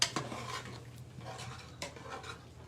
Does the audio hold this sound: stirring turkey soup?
yes